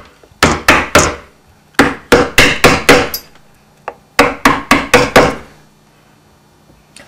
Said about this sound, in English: Just work around the inside now, and I'll use a slightly narrower straight chisel.